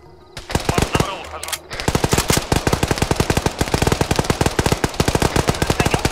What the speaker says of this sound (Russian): Чей пулемет работает?